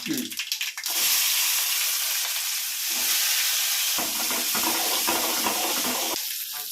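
Onions drop into hot oil, left over from frying appalam, with mustard seeds, dal and fenugreek for urundai kuzhambu. A loud, steady sizzle erupts after a brief clatter and keeps hissing close-up throughout.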